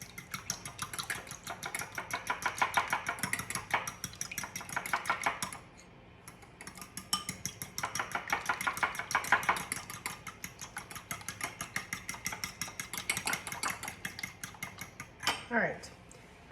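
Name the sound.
fork whisking cheesecake mixture with vanilla bean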